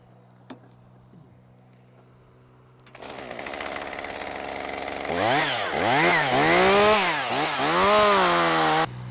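A chainsaw starts up close by, idles briefly, then revs hard in rising and falling surges while cutting into a huge pecan tree during a tree removal.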